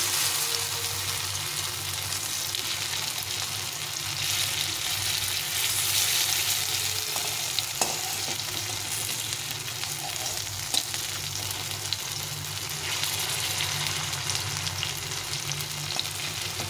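Banana flower koftas fry in oil with a dense, constant sizzle, close and fairly loud throughout, broken by a few faint clinks of a utensil turning them.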